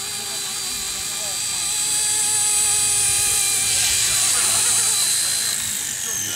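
A small K130 RC model helicopter hovers close by, its high whining rotor and motor drone steady and loud, rising slightly in pitch midway. Voices can be heard faintly under the noise.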